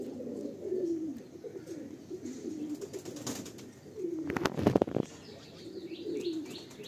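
A pigeon from a breeding pair in Behala coos in low, rolling phrases that repeat throughout, with sparrow-like chirps above and a short burst of wing flapping midway.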